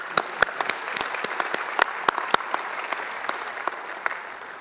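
Graduation ceremony audience applauding the staff, a steady wash of many hands clapping with a few sharper nearby claps standing out, fairly close and sustained throughout.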